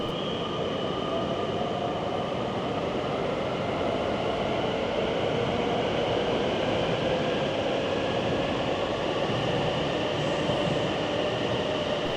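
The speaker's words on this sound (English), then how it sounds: "at the main railway station, where trains connect all over Europe" Steady, loud rumble of a train at Amsterdam's main railway station with a constant mechanical hum and faint high whine, continuous throughout with no voices.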